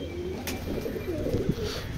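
Rampuri pigeons in a loft giving low, throaty coos that roll on continuously, close by under a steady background hum.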